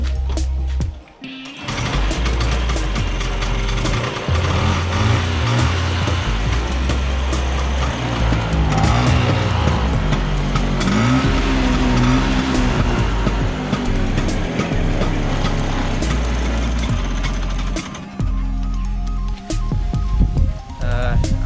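A forty-year-old restored scooter engine runs and revs continuously, a loud throbbing putter with rising and falling pitch that fills the whole stretch, dipping briefly near the end before picking up again.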